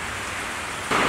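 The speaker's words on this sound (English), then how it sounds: "As soon as I started talking, it started like throwing down rain" Heavy rain pours down steadily beneath a Jeep Cherokee in an outdoor work area, its hiss growing suddenly louder and denser near the end with no voices.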